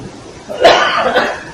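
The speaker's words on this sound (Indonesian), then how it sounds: "Maaf nanti kalau saya batuk, jadi suasana kurang meriahnya." A single throaty cough from a speaker during an Islamic Maulid lecture at a campus, brief and close to the microphone in a quiet room.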